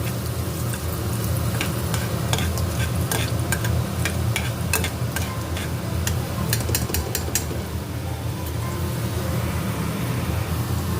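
Urad dal frying in coconut oil with mustard seeds, curry leaves and green chilli for a South Indian banana stem stir fry, a steady close sizzle with scattered sharp crackles and pops, no voices.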